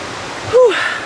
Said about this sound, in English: a place where you're actually kind of under the waterfall. So all the water is coming out here.